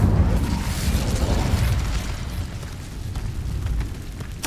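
Fiery Incendio spell effect from Hogwarts Legacy: a dense, sustained roaring burst with low rumbling weight, steady and loud throughout, ending with a sharp crackling flare.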